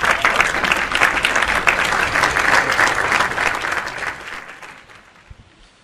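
A seated audience at a Tamil Pongal festival debate applauds a speaker, a dense burst of clapping that holds steady and then fades out.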